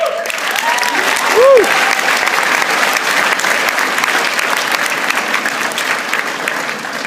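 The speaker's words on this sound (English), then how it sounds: "give her a brief round of applause" Audience at a youth and government program gathering breaks into steady, full applause that lasts the whole stretch, with a short whoop or cheer rising above the clapping early on.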